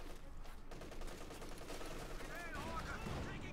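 Fifty-caliber machine guns fire during a Company of Heroes 2 battle, a dense, continuous rattle of rapid shots blended with other battlefield noise, with a voice faintly present underneath.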